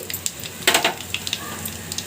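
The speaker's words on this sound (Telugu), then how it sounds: "ఇప్పుడు ఇందులో పోపుని యాడ్ చేసుకోండి" Whole spices for a tempering crackle and sizzle in hot oil, a short close burst of spitting pops with one louder flare partway through.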